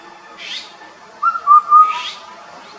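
An Indian cuckoo, the four-note cuckoo, gives a short whistled call. A clear, moderately loud phrase sits in the middle, with fainter whistled notes before and after it and no voices.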